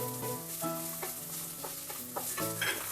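Grated coconut sautéing with onion and drumstick in a pan for sambar, with steady stirring and scraping over a soft, continuous sizzle, close up and alone.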